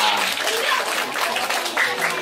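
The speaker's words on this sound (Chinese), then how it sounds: "掌声鼓励一下" Loud, close applause from a group at a hands-on science class, a thick continuous patter of clapping that holds for a couple of seconds.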